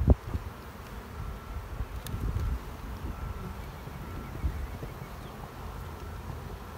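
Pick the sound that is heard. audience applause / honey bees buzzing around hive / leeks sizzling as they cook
honey bees buzzing around hive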